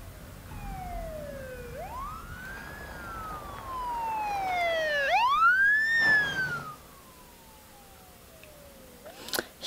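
A police siren wails and yelps through rising and falling sweeps, fairly close, then cuts out, leaving quiet road noise and a brief sharp sound at the end.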